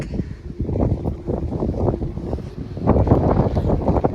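Strong wind buffets the microphone in a continuous roaring rumble with gusty surges, loud and close, with no talking.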